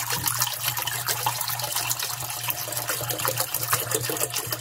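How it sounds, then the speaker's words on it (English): Water pours steadily from a big jug into a snake's water dish, a continuous close splashing trickle with no talk over it. "and then I have a big jug of water"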